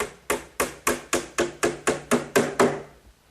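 Nine evenly spaced hammer blows drive 5-penny box nails into the top frame of a wooden kitchen hutch, each strike sharp and ringing, close and loud with no voices.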